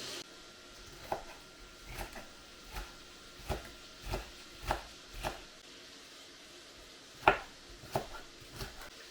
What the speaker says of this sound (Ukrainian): продовжую нарізати овочі